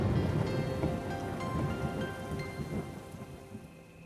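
Heavy rain pours down steadily with deep rolling thunder rumbling beneath it, a dense, constant downpour close by with no voices.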